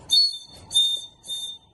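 A clay bird whistle blown dry without water, producing three short, bright, shrill whistle blasts in an even rhythm, close and clear with brief pauses between them.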